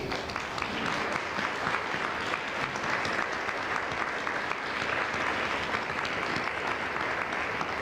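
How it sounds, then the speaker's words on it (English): Steady, sustained applause fills the room from a conference audience at the 2014 New England Conference for Student Success, a dense wash of many hands clapping without pause. "One more time, you can applaud yourself and our presenters."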